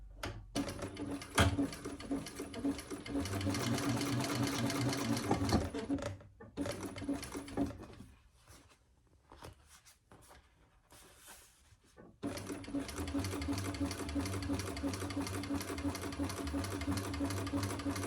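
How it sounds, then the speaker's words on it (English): A sewing machine top stitches a cork mini box tote bag in steady, fast runs. It stops for a pause in the middle, then starts stitching again, close and fairly loud. "let's top stitch 1/8 of an inch on each side of that"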